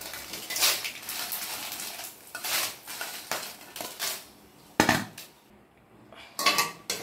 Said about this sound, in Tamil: இப்போ நம்ம எடுத்துகிட்டு பாத்திரத்தில் கொட்டிடுவோம்.